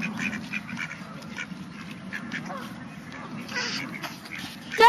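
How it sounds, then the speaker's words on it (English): Ducks quack repeatedly nearby in a loose, chattering chorus, with a few honking calls mixed in and faint voices in the background. "Marty, did you see the ducks?"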